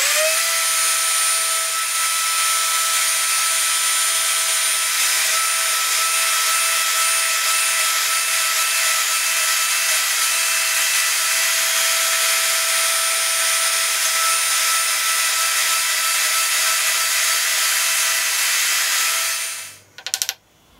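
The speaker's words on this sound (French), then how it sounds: "maintenant je vais devoir faire la rainure ici" A power tool cuts a groove into wood for a kerfmaker, a loud, steady, high-pitched whine holding for about twenty seconds before it abruptly stops.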